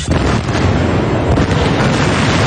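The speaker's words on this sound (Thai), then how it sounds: "บรรจุระเบิดถูกจุด" A deep, sustained roar of ammonium nitrate blasting at an iron ore mine rumbles loudly throughout, dense and continuous like a distant explosion with rolling debris, no voices.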